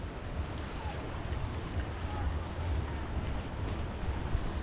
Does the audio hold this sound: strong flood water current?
yes